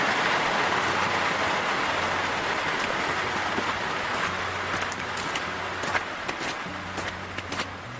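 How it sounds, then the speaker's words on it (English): Steady rain hisses densely and continuously, with a low rumble underneath and a few sharper patters toward the end. "He was headed home when he heard the sound of rain."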